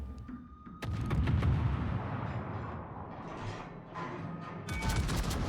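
Ship guns firing blind in a naval game with a Collingwood, heavy booming salvos with a sharp burst near the start, a rumbling sustained roar and another loud burst near the end, with no talk.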